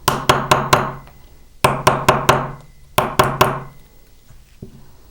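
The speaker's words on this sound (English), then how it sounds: "So I'm not just hammering it real flat in here." Bursts of sharp hammer blows on a metal jewelry blank against a block, four or five quick strikes at a time, ring out close and loud with short pauses between groups.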